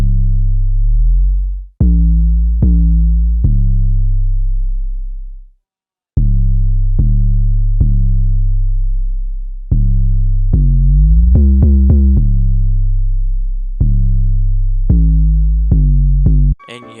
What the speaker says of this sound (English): the kick follows the exact same patterns as the 808, so it sounds like this